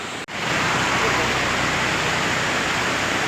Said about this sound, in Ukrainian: Ну ще яка тут річка.